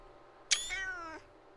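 A single short cat meow from a cat in the farming game Stardew Valley, clear and synthetic-sounding, rising then falling, alone over a quiet game background.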